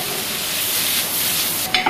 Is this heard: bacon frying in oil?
yes